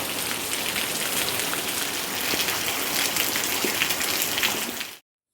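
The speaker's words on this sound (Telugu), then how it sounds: "వర్షం అయితే చూడండి ఎలా పడుతుందో" Heavy rain pours down outside a village house in a dense, even roar of drops hitting surfaces, constant throughout before cutting off abruptly.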